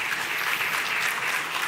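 Audience applause at a national mining dialogue event after a guest is introduced: a continuous wash of many hands clapping, even and sustained, moderately loud.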